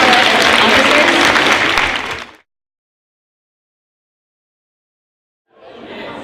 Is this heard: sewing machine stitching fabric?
no